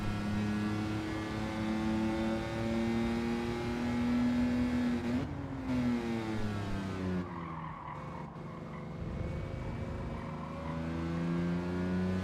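A race car engine in a racing video game drones and revs through gear changes with tire skids, loud and steady, shifting pitch as the car brakes and accelerates with no talking.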